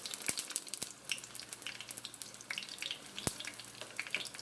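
Steady crackling sizzle of Puerto Rican cod fritters frying in hot oil, with a few sharp pops and clicks, close by and moderately quiet.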